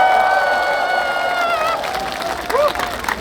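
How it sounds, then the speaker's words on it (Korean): A crowd at an outdoor rally in Gwangju's 5·18 Democracy Square claps and cheers loudly and continuously, with a few whoops rising as the noise thins toward the end. "박수 한번 치도록 하겠습니다."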